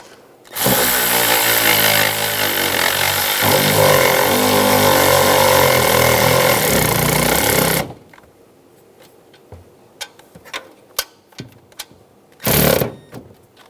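A power tool snugs bolts on the EGR tube of a 1999-2006 Chevrolet Silverado 1500, a loud, close buzzing run of about seven seconds, then scattered clicks and taps and one short final burst.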